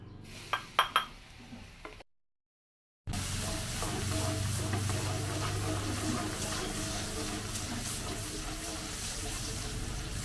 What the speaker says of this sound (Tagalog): Isa po natin yung bawang.